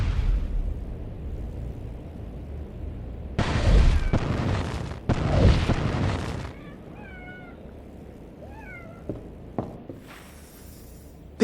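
A Depulso spell cast in the PS2 game Harry Potter and the Order of the Phoenix lets out two loud whooshing magical blasts in quick succession. Softer chirping, meow-like game tones and a few light clicks follow over a low ambient hum.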